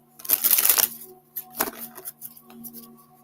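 A quick riffle of tarot cards being shuffled, followed by a few softer card flicks and taps, close and quiet.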